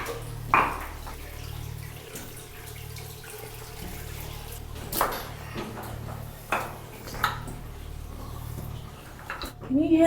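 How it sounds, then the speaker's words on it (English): Water running and trickling inside Bell Witch Cave, a continuous splashing flow with a low hum beneath and a few sharp knocks, while people talk quietly nearby. "There's a lot of water"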